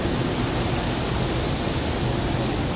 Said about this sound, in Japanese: 緑すぎる滝です。